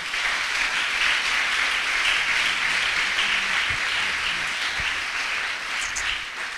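Church congregation applauding together to acclaim the king during a French and Lingala sermon: dense, steady clapping from many people filling the room, sustained at an even loudness before easing slightly at the end.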